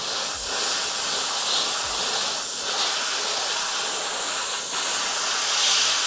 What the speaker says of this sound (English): HPCS Eclipse airbrush, I'm just going to get nice coverage on the entire miniature